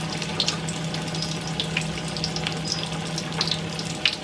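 A battered chicken fillet sizzles in oil, a soft continuous crackle with scattered pops and a low steady hum underneath, fairly quiet and close, with no talking.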